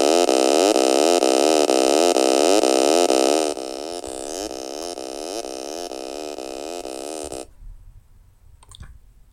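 A house bass line made in FL Studio repeats in loud, buzzy pulses with a rising sweep on each note, then drops in level partway through before cutting to near silence with a faint click.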